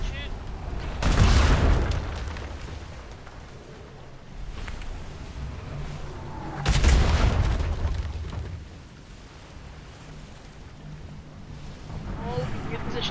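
Ship cannons fire in a video game naval battle against a brigantine, with two heavy booming volleys a few seconds apart and a rumbling tail over a low background hum.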